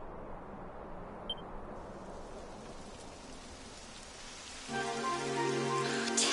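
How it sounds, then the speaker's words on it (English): Rain in the Dragon Quest XI video game, a steady hiss of falling drops across the whole stretch, with a brighter, denser rain loop swelling in near the end under soft game ambience. "It would have to go and start raining, wouldn't it?"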